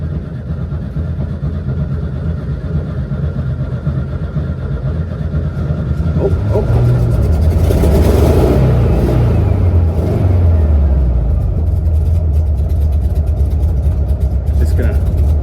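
A 1969 VW Bus engine, fresh from carburetor work, runs loud and close at a steady idle with rough, uneven revving swells midway and a persistent low rumble throughout.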